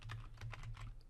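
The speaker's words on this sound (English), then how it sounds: "Now, when you start typing," Rapid typing on a computer keyboard while entering a command in a Windows Server 2019 Server Core PowerShell window: a close, steady run of quick key clicks over a low hum, with no talk.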